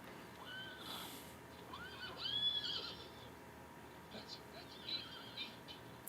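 A horse whinnies in two or three wavering calls, moderately close, among other scattered animal and outdoor sounds, with a sudden loud hit at the very end.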